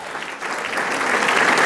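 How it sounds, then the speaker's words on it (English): Dense audience applause at a City Club luncheon, many hands clapping close and loud, building slightly over a short stretch. "Let's give her a round of applause."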